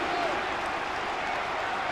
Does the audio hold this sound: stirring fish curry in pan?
no